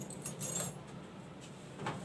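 Metal zipper heads for a handmade insulated lunch bag clink and jingle faintly as they are handled close by, a few small light metallic taps and rattles over a quiet background.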